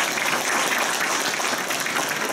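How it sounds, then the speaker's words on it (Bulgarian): Applause for a school team at the official launch of a STEM program: a steady, full crowd clapping, loud and even throughout with no pauses or talk. "Още един път аплодисменти за екипа на Кочо"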